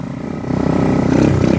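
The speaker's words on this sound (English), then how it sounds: "Riding a mini bike." A small mini bike engine putters and revs while riding, a close, rough, rising drone that grows louder partway through.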